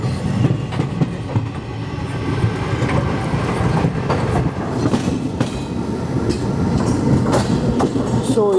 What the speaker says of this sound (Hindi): और यहाँ पे हजूर साहिब नांदेड़ गंगानगर एक्सप्रेस का रेक शंट हो रहा है।